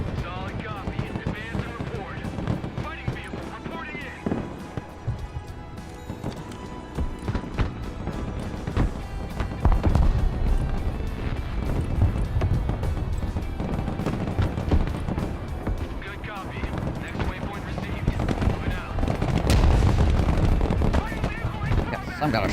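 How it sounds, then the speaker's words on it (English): Short-range artillery barrages in the video game Broken Arrow fill the scene with a dense, continuous battlefield rumble and repeated dull thumps, while a person talks over the noise. "some kind of short-range artillery, it seems like, coming out of like these woods here"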